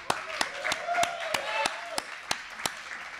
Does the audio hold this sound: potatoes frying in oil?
no